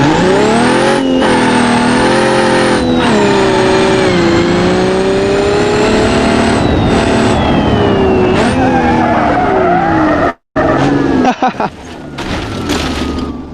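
A car engine in a video game revs hard and loud through long rising and falling strains, sounding like it is struggling with torque despite a heavy-duty long block, with a sudden cut near the end before revving resumes.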